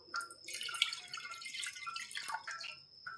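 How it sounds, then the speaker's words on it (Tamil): Water is poured from a tumbler into a pot for ragi and millet kali porridge, a close, soft splashing trickle that gurgles steadily for a few seconds. "இந்த டம்ளரால் 2 டம்ளர் தண்ணி சேர்த்துக்கலாம்."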